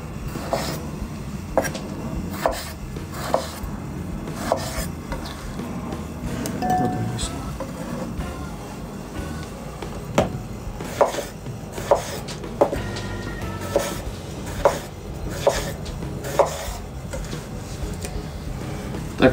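A knife chops tomatoes into fairly large pieces on a board in sharp, irregular taps, sparse at first then quicker and more regular, with faint background noise.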